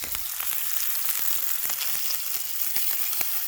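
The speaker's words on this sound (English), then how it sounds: "put a couple of bits of lamb and chuck them on and start cooking them up" Pieces of lamb frying in a pan beside onions, a continuous close crackling sizzle with dense irregular pops throughout, no talking.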